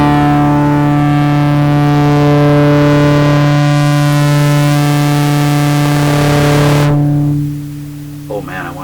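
A guitar plucked through an APHEX Tubessence model 107 stereo mic mixer with distortion rings out loud and sustained, a thick buzzing harmonic tone that holds steady for several seconds before cutting off abruptly, followed by a brief faint sound.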